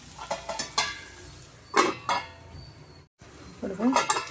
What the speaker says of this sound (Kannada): ಇವಾಗ ಇದನ್ನು ತಟ್ಟೆ ಮುಚ್ಚಿ ಮಾಡೋಣ